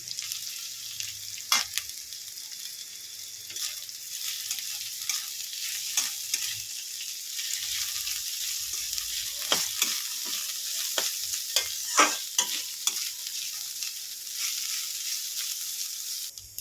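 Chicken pieces go into a pan of frying onions and green chilli, giving a steady close sizzle broken by repeated sharp stirring scrapes and clinks, with no one speaking.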